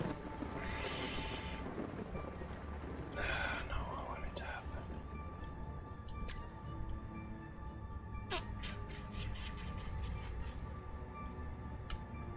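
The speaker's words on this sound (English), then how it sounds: "I am probably about to get struck by lightning here, as I can hear it going on in the background" Thunder and lightning from a storm in the video game Space Engineers: low rumbles and bursts of crackling noise early on, then a run of sharp, rapid ticking crackles later, all over constant background hum.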